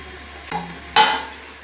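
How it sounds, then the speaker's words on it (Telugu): Jackfruit and softened vegetables are mixed in a pot for jackfruit biryani, producing two short scraping stirs over a low sizzle, close and brief. "వేసుకొని బాగా మిక్స్ చేస్తున్నానండి"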